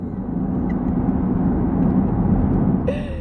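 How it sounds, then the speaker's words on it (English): A loud truck drives along, heard from inside the cab as a steady, heavy low road and engine drone that fills the whole stretch, with a brief higher tone near the end. "Hopefully you can hear me because this truck is really loud."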